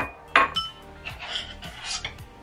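A bowl and dishes clink and knock as they are handled in a home kitchen while serving rice, with a sharp clatter near the start and softer taps and scrapes after, close by and fairly quiet.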